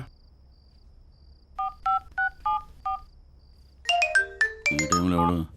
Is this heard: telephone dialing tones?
yes